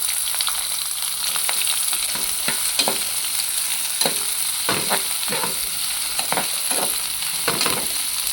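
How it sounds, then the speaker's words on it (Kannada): Curry leaves and chopped onion frying in hot oil, a loud continuous sizzle broken by repeated scraping stirs of a spatula against the pan. "ಫ್ರೈ ಮಾಡ್ಕೊಳ್ಳಿ ಕರಿಬೇವು ಕಟ್ ಮಾಡಿಕೊಂಡಿರೋ ಈರುಳ್ಳಿ"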